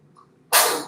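A single sudden sneeze bursts out close and loud after a brief intake of breath, lasting under half a second with nothing else around it.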